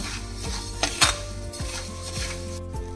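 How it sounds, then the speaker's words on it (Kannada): Millets and pumpkin seeds being stirred together as they roast in a pan, with loud, close metallic scraping of a spoon against the pan and a faint rattle of grains. "ಎರಡೂ ಕೂಡ ಮಿಕ್ಸ್ ಮಾಡಿ ಹುರ್ಕೊತಾ ಇದ್ದೀನಿ"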